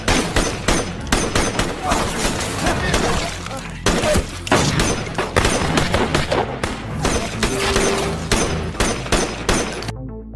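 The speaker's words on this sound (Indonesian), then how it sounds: "Di tengah baku tembak yang semakin sengit" Gunfire in a film shootout, with dense, loud, rapid bursts of shots and crashing impacts running almost continuously, ending in a brief silence.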